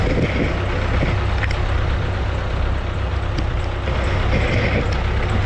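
A Kubota MU 5501 tractor's heavy diesel engine runs at a steady, loud idle nearby, a continuous low chugging rumble with no talking.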